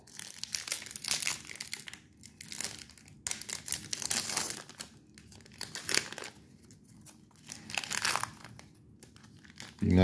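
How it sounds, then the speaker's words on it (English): A Bowman 2024 baseball card pack wrapper being opened gently by hand, with close, quiet crinkling and tearing in uneven bursts separated by short pauses, and no talking. "Be nice and gentle with the pack opening."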